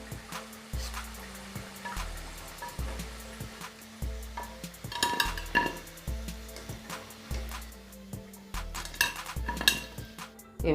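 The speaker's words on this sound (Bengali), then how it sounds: "এভাবে সব রোলগুলো ভেজে নেব" Cabbage spring rolls frying in oil, with a soft sizzle beneath clinks and scrapes of a utensil against the pan, irregular taps and stirring knocks coming in uneven bursts close by.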